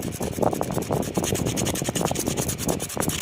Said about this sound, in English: Now you can clean the whole spark plug and what have you